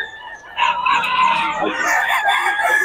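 Rooster crowing with chickens clucking among a flock of gamefowl, a loud, continuous, layered crow that swells after a brief quieter start and holds steadily to the end.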